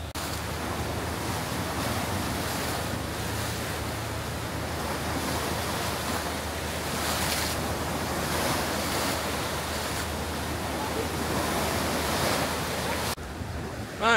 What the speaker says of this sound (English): Wow, look at these waves on the rocks.